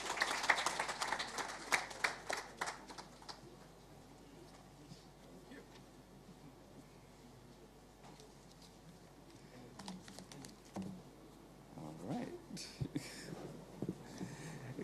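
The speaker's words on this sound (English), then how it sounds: "Let's receive him with a big round of applause." Scattered applause from a small crowd at a government town-hall meeting, brisk at first, then thinning to sparse claps and shuffling, with a brief swell of clapping near the end.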